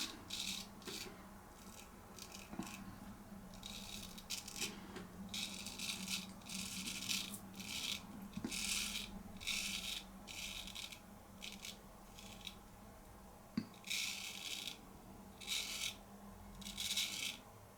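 A J R Torrey straight razor scrapes across facial stubble in repeated rasping strokes that come in short bursts with brief pauses between them, close and fairly steady throughout.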